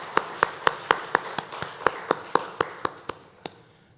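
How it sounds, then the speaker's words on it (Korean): A church congregation in a Korean Sunday service gives a short round of claps, about fifteen evenly spaced hand claps ringing out clearly in a reverberant hall, slightly thinning toward the end, with no talking. "우리 박수로 축하합시다."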